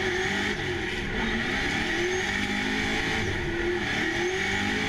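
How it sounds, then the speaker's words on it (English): Race cars on a circuit, the engine roaring loud and continuous with revving and tire squeal, one car chasing closely behind another. "Listen to this engine roar."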